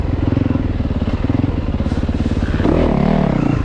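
A 2021 Yamaha YZ450FX dirt bike engine runs at Crow Canyon, a loud close thumping idle with rapid regular pulses, then revving up sharply near the end.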